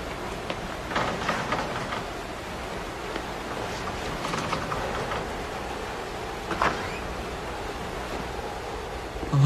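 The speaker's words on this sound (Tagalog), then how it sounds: "lakas talaga ng ulan." Heavy storm rain pours down in a steady broad hiss, a constant wash of noise with a few brief swells and knocks, no voices heard over it.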